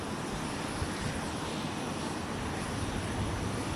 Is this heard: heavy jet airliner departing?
yes